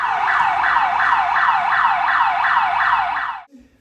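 An alarm system blares inside a grocery store, a loud repeating wail that sweeps in a quick regular cycle about eight times before cutting off abruptly, leaving faint room noise.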